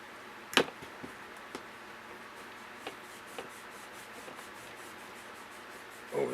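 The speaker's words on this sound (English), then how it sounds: "I was running the eraser over the" An eraser rubs over a black staple, a faint, soft scrubbing with a few small ticks and scrapes, close and quiet throughout.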